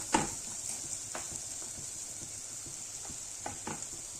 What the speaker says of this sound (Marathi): त्याला आता परतून घेऊ मस्त